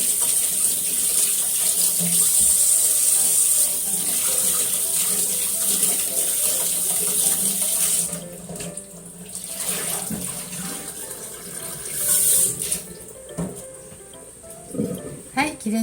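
Lemons being washed under a running kitchen tap, a steady broadband rush of water lasting about eight seconds and then breaking into intermittent splashing and rubbing, with a person speaking over it.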